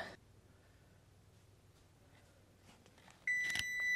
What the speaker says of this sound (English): set the timer before I forget